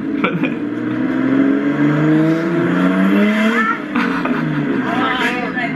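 A 400hp Nissan Stagea engine revs loudly and continuously nearby, a dense rumbling roar with rising and falling pitch, with people's voices mixed in.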